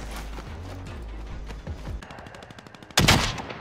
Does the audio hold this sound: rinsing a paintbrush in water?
no